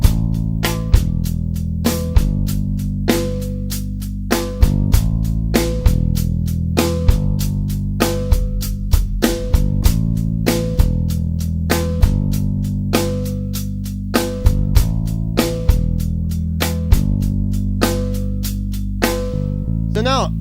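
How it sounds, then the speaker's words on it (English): A repeating drum-kit groove with the snare struck on beats 2 and 4 over kick and hi-hat, steady and close, holding a constant tempo for the whole passage with no talking over it. "you can play just the snare drum on 2 and 4"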